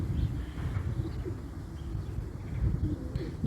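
Low, soft cooing from pigeons murmurs repeatedly over a rumbling wind-like background, fairly faint and at a moderate distance.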